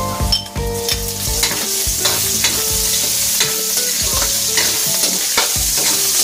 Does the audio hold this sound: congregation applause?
no